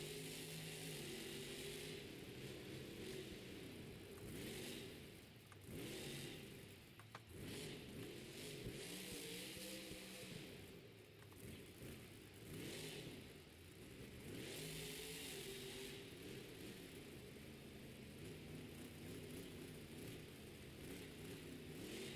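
A monster truck engine revving in a stadium during a Monster Jam Stadium Series show in Glendale, rising and falling continuously across the whole stretch, heard from the stands at a distance under crowd ambience.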